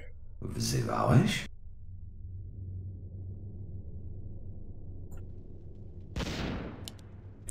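Two loud, booming gunshot-like blasts from Warcraft III: The Frozen Throne, separated by several seconds, each with a rumbling tail, the first trailing into a long low echo.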